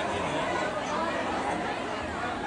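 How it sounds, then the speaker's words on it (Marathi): Thick, continuous babble of many voices inside a crowded temple in Mathura, an even hubbub that stays steady from start to end. "खूपच गर्दी आहे, तुम्ही बघू शकता मंदिरात"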